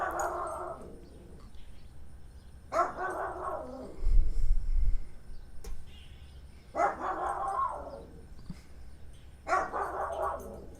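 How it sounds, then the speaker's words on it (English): A dog barks in short repeated bursts outdoors on a cold morning, four clusters spaced a few seconds apart, fairly close and moderately loud. "Oh, there goes the dog."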